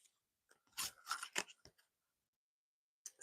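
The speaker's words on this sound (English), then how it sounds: "Let me get a clarity card, and then, I could just keep pulling cards and just pulling cards." Tarot cards are pulled and shuffled from a deck, giving close papery swishes and snaps in a short burst, with brief rustles after a quiet pause.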